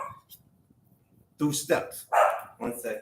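A dog named Biscuit gives a few quick barks close by, with someone talking over them and scattered footsteps earlier on.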